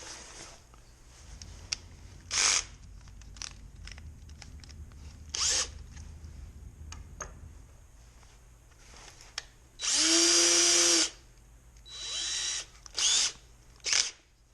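A power drill whirs in short bursts separated by pauses while drilling holes in the metal of a Corona 3354 weeder, one longer steady run in the middle, with small handling clicks between.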